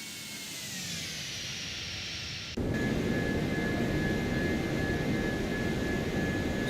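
Airbus A320 jet climbing after takeoff from Toulouse in the X-Plane 12 simulator, a steady broad engine roar that steps up sharply in loudness partway through and then holds constant with a thin whine above it.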